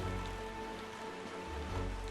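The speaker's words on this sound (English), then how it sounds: "There we go, rain starting." Rain begins falling in the Wind Waker HD video game, a steady, even hiss of rainfall on a surface that holds throughout without any talk.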